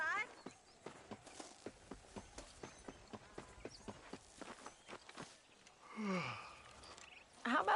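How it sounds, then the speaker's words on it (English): Horse hooves clip-clop at a steady walking rhythm while riding in the Western video game Red Dead Redemption, fairly close and distinct, followed by a brief louder whoosh and swell of other game sound near the end. "Getting shot then riding a horse seems to take it out of you."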